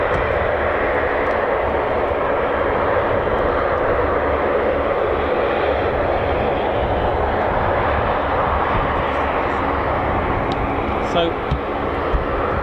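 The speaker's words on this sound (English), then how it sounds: "I'll probably get you that final shot with this KC-135 just running in now" A Boeing KC-135 tanker runs in on approach at an RAF airshow, its jet engines a loud, steady broadband roar that fills the whole stretch with a thin high whine on top, a brief word spoken over it.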